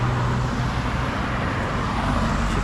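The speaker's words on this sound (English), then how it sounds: "Just wait for the cars to go across the road." Steady road traffic from cars crossing a road beside a disused railway line near Keeper's Cottage, a continuous nearby engine and tyre rumble with no distinct pass-by peaks.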